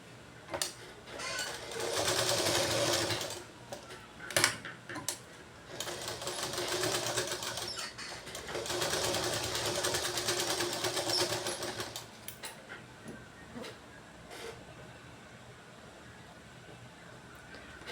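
A sewing machine stitches fabric during a basic sewing lesson, whirring in fast, steady runs of several seconds separated by short pauses and a few clicks, fairly close and with no talk over it.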